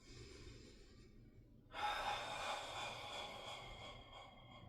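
Deep breaths drawn in and let out through the mouth during a stress-release exercise, a soft airy rush that swells partway through and holds steady, close and alone without talk.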